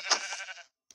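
A goat bleats once in the Minecraft video game, a short, close, nasal cry lasting just over half a second, followed by a faint tiny click after a brief silence.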